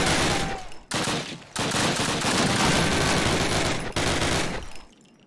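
Dense, loud automatic gunfire in the 2003 Call of Duty game, nearly continuous bursts broken by two short pauses, then trailing off at the end.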